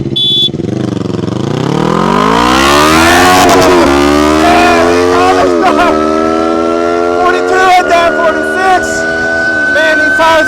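A Tork Pro Sport 72V electric dirt bike with a 45 amp-hour battery accelerates hard in mode 3 toward about 65 mph, its loud motor whine rising steadily in pitch, then holding high over buffeting wind noise.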